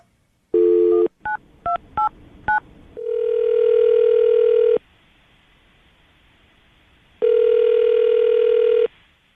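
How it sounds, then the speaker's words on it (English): Push-button telephone dialing during a radio morning-show call: a quick run of short keypad tones, then a long steady line tone, a pause, and a second long tone, all loud and clear with no talking. "I'm going to dial the phone number right now, see if we can get her on the phone"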